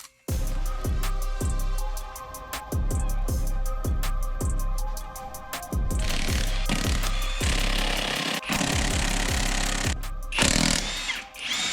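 Wrench on an extension breaking free the suspension jam nuts on a Jeep Gladiator, heard as a rapid series of sharp repeated impact bangs, loud and close, running through most of the clip with brief pauses.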